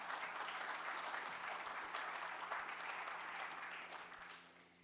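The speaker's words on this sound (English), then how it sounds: "Let's give them a round of applause." An audience at the 2025 Buffalo Private Equity Summit gives a round of applause: dense, sustained clapping that fills the room and slowly tapers off at the end.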